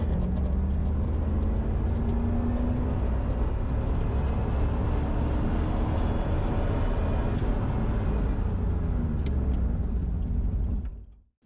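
A 1992 Camaro with a stock 305 TBI V8 and automatic transmission accelerates hard from standstill to 60 on slippery asphalt, the engine roaring loudly and rising in pitch through gear changes before cutting off abruptly.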